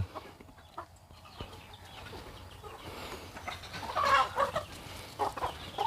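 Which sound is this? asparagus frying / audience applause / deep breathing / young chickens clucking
young chickens clucking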